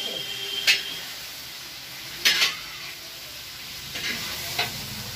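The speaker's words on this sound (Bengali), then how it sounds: "এই যে দাদা রান্না করছে" Food frying and being stirred in a pan during home cooking, with a low sizzle throughout and a few short scraping bursts of stirring, faint talk in the background.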